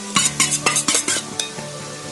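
Turmeric and garam masala are stirred into a frying mixture in a pan for a broken wheat cutlet: close, rhythmic scraping strokes, about eight in two seconds, over a soft sizzle.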